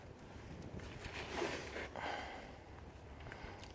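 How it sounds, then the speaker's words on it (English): Gusty wind buffets an outdoor microphone with broadband rumble and whooshing swells, during an oil change on a 2004 Honda Element; no speech. "Boy, the wind just really picked up."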